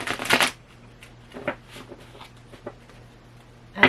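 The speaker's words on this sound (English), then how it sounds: "That's why I'm shuffling. Pull a couple cards." A quick riffle of tarot cards being shuffled, followed by a few soft taps and light handling sounds against a quiet hum.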